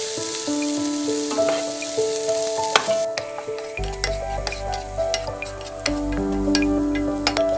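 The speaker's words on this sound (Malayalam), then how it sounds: "അതിലേക്ക് നമുക്ക് അരിഞ്ഞു വെച്ച സവാള ചേർത്ത് കൊടുക്കാം." Chopped onion fries in melted butter with a steady close sizzle and intermittent stirring clicks, set under background music with sustained tones.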